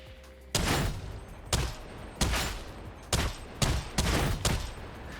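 A heavy stubber fires in a video game: six or so loud, separate shots or short bursts spaced roughly a second apart, each a sharp broadband crack with a brief tail, and no talking.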